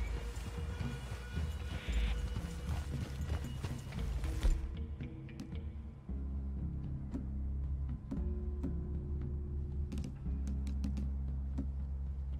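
Horse hooves clip-clop in the Red Dead Redemption 2 video game, irregular and fairly faint. Soft creaks and outdoor game ambience sit around them, and no one speaks.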